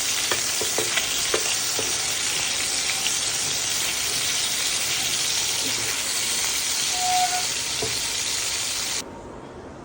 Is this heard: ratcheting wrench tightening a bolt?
no